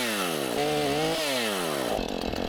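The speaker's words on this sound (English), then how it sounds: "Got my chainsaw stuck on a freaking shrub." A chainsaw cuts through shrubs, its engine revving loud and close with rising and falling pitch as the chain bites and bogs in the brush.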